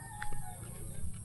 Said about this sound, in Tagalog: yun ang problema, yung manok oh